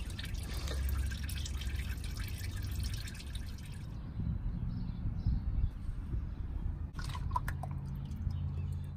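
Motor oil drains and drips from the unscrewed oil filter of a 2019 Toyota Tundra with the 5.7 V8, a steady close trickle with a brief splashing burst toward the end, and no talking.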